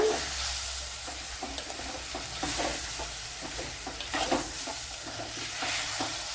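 Lemon pieces dropped into a pan of frying spice powders for lemon pickle, giving a steady close sizzle with scraping stirring strokes throughout and no talking.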